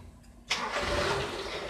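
Toyota Kijang engine with a carburetor fault cranks and catches at about half a second, then runs at a steady, loud idle to the end, close up with no talk.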